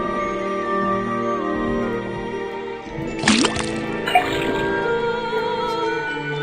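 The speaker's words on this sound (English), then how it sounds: "First thing we do, then tap the faucet." In the Detective Grimoire swamp game, a tapped faucet lets out water with a wet squelching splash over steady game music, then a couple of small drips.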